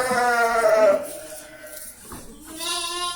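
Sheep bleat close by inside a small-livestock tent fitted with wooden pen partitions: a long wavering bleat, a pause, then another drawn-out cry, with no talk.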